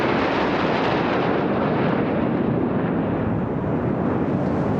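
Military jet aircraft in a Republic Day flypast over a crowd, roaring past at about 750 km/h in a loud, continuous broadband rush that fills the whole stretch with no voices.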